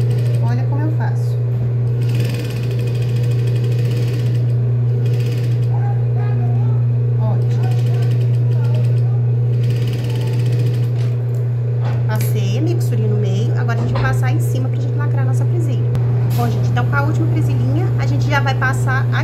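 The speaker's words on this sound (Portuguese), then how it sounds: "vou passar um meio pezinho de máquina, chego aqui e já dobro, já vem passando certinho" Sewing machine stitching elastic onto children's wrap-style shorts, a steady close mechanical hum running throughout while someone talks over it.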